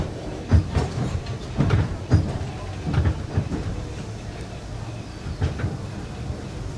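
Disneyland Railroad steam train carriage rolling along the track, with rhythmic clunks and rattles from the wheels and car at irregular intervals over a steady rumble, and some faint voices underneath.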